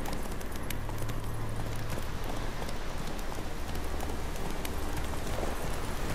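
A horse gallops in The Witcher 3, its steady, even hoofbeats running continuously under a hissing, rain-like wash of background noise.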